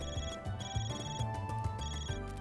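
A phone rings in the video game Trails Through Daybreak, a steady electronic ringtone pattern repeating in bursts over a low backing beat, loud and close with no talk.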